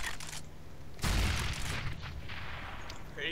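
A grenade detonates in CS:GO with a sudden loud, booming blast that then fades into a lingering rumble, while in-game gunfire and background noise continue around it.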